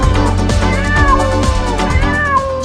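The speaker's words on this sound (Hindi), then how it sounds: "बबलू की नजर एक बिल्ली पर पड़ी" A cartoon cat in an animated story meows loudly and clearly, two or three drawn-out, wavering calls over a steady music backing, no talking.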